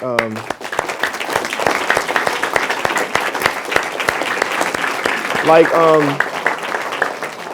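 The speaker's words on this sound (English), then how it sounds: "let's applaud each other" An audience at a talk on redefining manhood breaks into sustained applause, dense rapid clapping that holds steady and loud throughout, with a few voices calling out over it.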